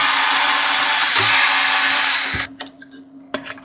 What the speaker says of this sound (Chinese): 来，外壳螺丝全部拆掉。